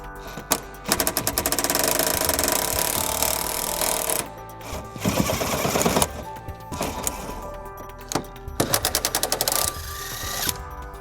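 An impact wrench with an 18mm socket takes bolts off the driver's side frame rail of a 2000 Jeep Grand Cherokee, giving loud rattling bursts of hammering broken by short pauses, repeated several times.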